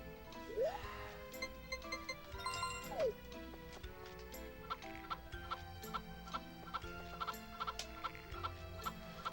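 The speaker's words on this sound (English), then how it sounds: "let's go take care of my chickens real quick" Chickens cluck in Harvest Moon 64, a series of short game-sound clucks and chirps over a soft looping background tune, with a pair of quick rising squawk-like calls early on, all fairly quiet.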